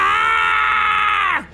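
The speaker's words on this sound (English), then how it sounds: "He screamed in pain." A man screams in agony during a medieval Spanish donkey torture scene, one long, loud, strained wail held steady and then cracking and dropping off abruptly, with no other voices.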